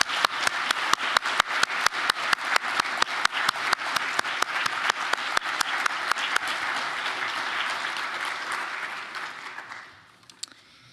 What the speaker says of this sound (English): would you all join me in giving them a big round of applause?